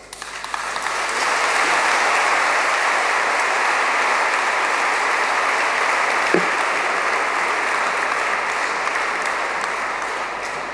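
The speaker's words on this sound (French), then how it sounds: "merci pour vos applaudissements" A congregation applauds during a Sunday morning homily in a church: sustained, even clapping that swells quickly, holds steady for about ten seconds with one sharp knock partway through, then slowly fades.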